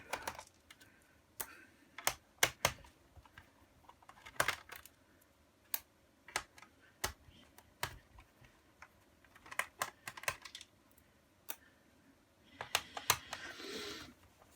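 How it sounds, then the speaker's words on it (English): Screws being undone around the underside of a Toshiba C650 laptop during disassembly, heard as a string of sharp, irregular small clicks and ticks, close and quiet, with a brief rustle at the end. "So just work your way around, undoing all the screws."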